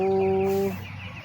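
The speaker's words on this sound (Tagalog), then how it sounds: "Ang daming pato." A duck gives one loud nasal quack up close, followed by softer bird calls and light background noise.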